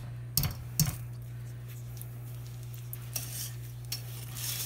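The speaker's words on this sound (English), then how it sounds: "keep stirring this until it comes to a rolling boil is what it says" Fantasy fudge mixture with evaporated milk being stirred in a pot, giving a couple of scraping strokes early on, then faint intermittent scrapes over a steady low hum, with no talking.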